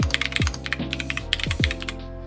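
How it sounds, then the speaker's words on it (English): Typing on a mechanical keyboard fitted with MX Purple switches: quick, uneven clacks of keystrokes close up, a dense run of key presses with no speech. "I'll type that."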